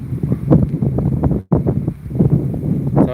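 Strong wind buffets the microphone outdoors near the fifth Thai–Lao Friendship Bridge in Bueng Kan, a loud continuous rumbling roar with one brief dropout midway.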